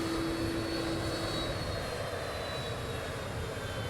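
A steady, loud drone of the US presidential aircraft's engine on arrival in Florida fills the whole stretch, with a thin whining tone riding on top and no break.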